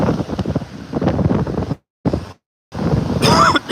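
Wind buffets the microphone in rough gusts at a North Naples, Florida beach, dropping out briefly and returning, with a faint wash like surf underneath.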